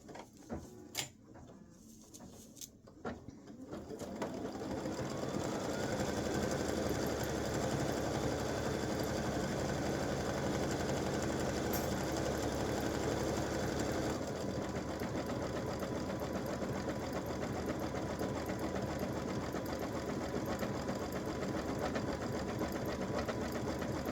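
An embroidery machine stitches red thread for an appliqué elf hat design on a T-shirt or sweatshirt, its steady, loud mechanical whir running continuously after a few brief startup clicks.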